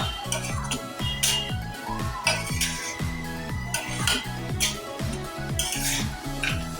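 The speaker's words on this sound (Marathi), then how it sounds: "आता हे पुन्हा परतवून घेऊया" Chilli paneer is stir-fried and tossed in a metal pan, with rhythmic scraping and clanking of a spatula against the pan over a faint sizzle, close and steady, no talking.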